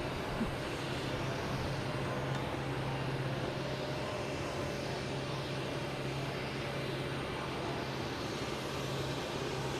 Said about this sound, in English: next coming in is JetBlue, an A320 coming in from Austin, Texas